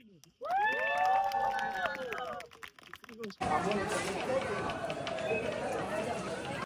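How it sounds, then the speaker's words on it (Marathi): A voice calls out, then a crowd breaks into sustained clapping mixed with excited chatter that carries on to the end, on a Balaji Tours temple-visit trip to Kolhapur. "जोरदार बालाजी टूर्स साठी टाळ्या"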